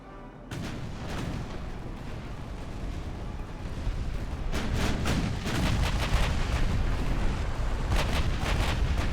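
Warship secondary guns in the naval game Ultimate Admiral: Dreadnoughts fire a dense, continuous barrage of booms. The booms grow heavier and quicken partway through, and no one speaks over them.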